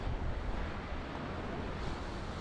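Sea waves at Anjuna Beach in Goa wash in a steady, dense roar of surf, with wind buffeting the microphone throughout and no voices.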